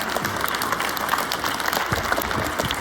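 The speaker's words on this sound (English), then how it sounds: "big round of applause for our teachers, principal sir, and all the students" Applause from an audience of teachers, a principal and students at a school event on constitutional rights, steady clapping filling the whole moment with a faint murmur underneath.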